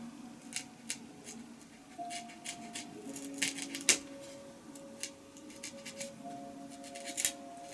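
Cutting a small piece off for a model airplane build, a Hee Wing F-01: a series of light snips and clicks, close and faint, over a quiet room with a low tonal hum.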